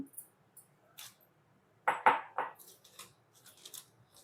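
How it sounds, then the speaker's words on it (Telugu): A utensil scrapes and clinks against a bowl while ground dried coconut is mixed into wheat flour with semolina and a pinch of salt, heard as a cluster of close, short scraping strokes with quieter taps before and after. "ఎండు కొబ్బరిని గ్రైండ్ చేసుకున్నాం కదా అది ఇందులో వేసుకొని కలుపుకోవాలి"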